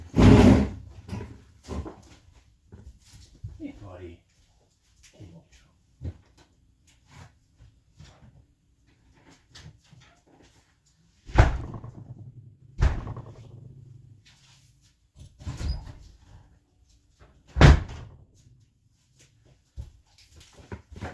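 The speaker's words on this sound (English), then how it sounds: "Would you look at that door? Just open by itself." A door swinging open on its own in the Car Parking Multiplayer video game, heard as a few sharp knocks and thuds spaced apart, with someone speaking briefly.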